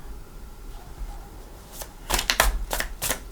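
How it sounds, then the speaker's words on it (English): Tarot cards are shuffled close by, a short burst of crisp riffling snaps after a quiet start, with no talk. "I'm going to shuffle for your cards"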